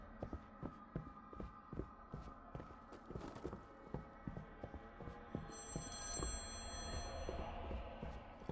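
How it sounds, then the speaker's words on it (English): A telephone rings in the horror video game Home Sweet Home: Survive, a bright repeating bell heard in the latter part over steady rhythmic thumping and a low game hum. "I'm not sure what that phone ringing means."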